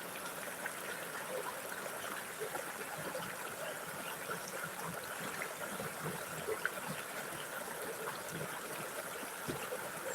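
A river flows with a soft, steady wash of moving water, faint and continuous with no talking over it.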